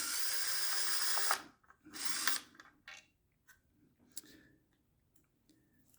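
Powered hex driver backing out small 3mm screws on a Ninebot Segway Max scooter wheel, two short whirring bursts followed by faint clicks and taps.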